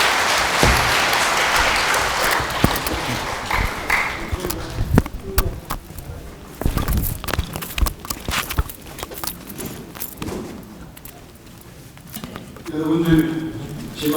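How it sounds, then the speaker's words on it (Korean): An audience applauds at the close of a lecture at a regional hometown association gathering, with clapping loudest at the start, then easing as a speaker talks over it. "큰 박수 부탁드립니다"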